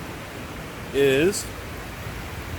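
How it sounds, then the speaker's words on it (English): Steady hiss of heavy rain fills the background throughout, with a brief spoken word cutting in near the middle. "Sorry about the loud noise in the background, but it is raining its ass off."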